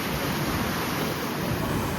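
Sea water washes up around a seaside temple in a steady, dense rush of surf noise, close and loud, with no voices.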